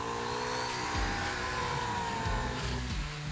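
A KTM 890 SM T motorcycle engine revs close by on a go-kart track, pitch climbing and dropping through gear changes, a steady loud drone with rising whines.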